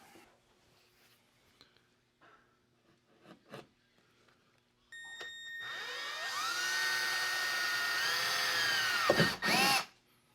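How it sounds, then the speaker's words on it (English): A power drill whines steadily as it bores into thin, soft metal to make mounting points for a thermostat, preceded by a few light clicks and taps, then stops abruptly with a final short burst. "We're going to drill into this metal to get our mounting points."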